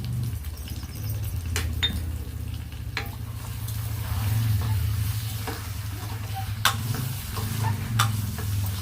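Chicken pieces sizzle and fry in a pan with rock salt and turmeric, stirred now and then, giving a steady close frying hiss with scattered scraping clicks and no talk.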